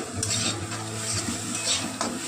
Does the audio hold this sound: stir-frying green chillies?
yes